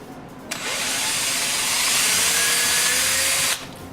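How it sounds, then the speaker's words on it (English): A power drill bores a hole in the top of a homemade classroom instrument humidifier, one steady loud whine lasting about three seconds close to the mic, with no talking. "First thing you got to do, you're going to want to put a hole in the top"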